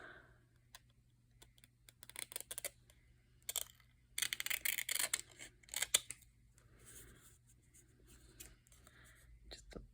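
Scissors trim a paper photo for a Halloween craft booklet: quiet, close snips come in quick clusters, and a denser run of crisp cuts sits in the middle, all over a faint steady hum.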